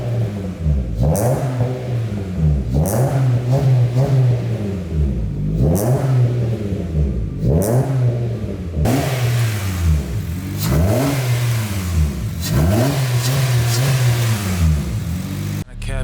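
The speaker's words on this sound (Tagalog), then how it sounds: "So ito na yung gawa namin na full exhaust para sa Honda City." A Honda City fitted with a K&N filter and a full custom exhaust revs repeatedly, each blip rising and falling in pitch over a loud, raspy exhaust note, nearby and in a steady rhythm.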